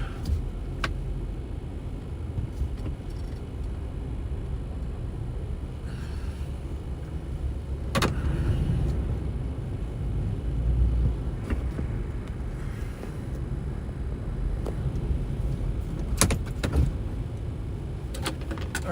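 Strong gusting wind roars against a car parked on Nebraska's I-80 during a high wind warning, with thumps and a sharp click around the middle as the door opens, steady buffeting throughout and no talk.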